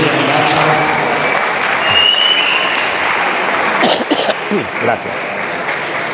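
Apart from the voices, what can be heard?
audience applause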